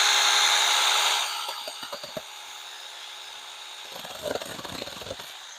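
Small handheld saw cutting through a little tree on a homestead, a few rough rasping strokes and scraping after a brief loud whir, fairly close and moderately quiet.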